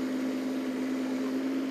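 A Kubota GR series all-wheel drive diesel ride-on mower runs steadily with a constant mid-pitched engine drone and hum, close and even throughout the turn, with no voices.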